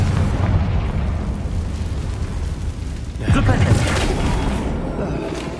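A Confringo fire-blast spell explodes in Hogwarts Legacy with a sudden deep boom partway through, over a dense, loud rumbling game soundscape.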